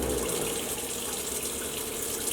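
Cold water runs steadily from a tap at an off-grid cabin, a continuous close rushing stream with no talk over it.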